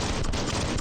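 A brief, dense volley of gunfire in the action game Biomutant, loud and continuous with rapid overlapping shots.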